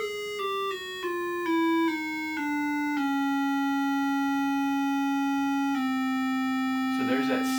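Pure sine reference tones for tuning by ear step downward in pitch a few times, then settle into one long sustained note for an open cello string, with a brief noisy rustle at the end.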